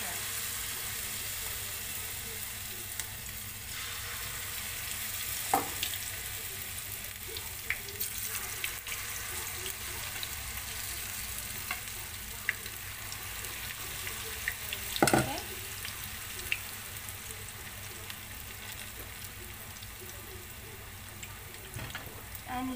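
Potato onion pakora mixture fries in hot oil with a steady, fine sizzle and crackle, broken by occasional louder pops and clinks of a utensil.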